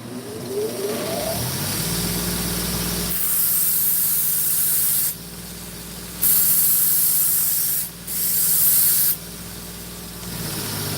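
A belt grinder with an 80 grit belt sharpening a knife: a loud, steady motor hum with bursts of harsh hissing grind as the blade meets the belt, broken by short pauses, with no talk.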